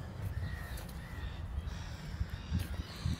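Seagulls calling outdoors by the water, harsh raspy cries repeating irregularly at a moderate distance over a constant low rumble of background noise.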